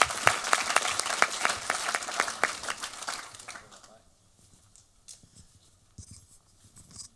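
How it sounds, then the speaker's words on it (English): An audience claps for panel speakers, a dense burst of applause for several seconds that thins out and fades into quiet room noise with a few scattered claps. "So another round of applause for these great speakers and panelists."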